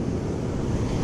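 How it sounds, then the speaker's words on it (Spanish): Surf breaks and washes on a deep beach where people are surf fishing, a loud continuous roar of waves mixed with wind buffeting the microphone, with no voices. "Aquí donde estamos está interesante porque hay bastante oleaje."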